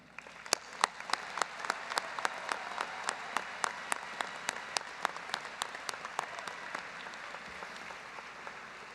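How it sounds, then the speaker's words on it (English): A commencement audience applauds graduates' supporters at a Northeastern College of Professional Studies ceremony, with crisp, fairly evenly spaced claps standing out over a soft hall murmur for the whole stretch, steady and moderately distant. "join me in recognizing your supporters with your round of applause to them"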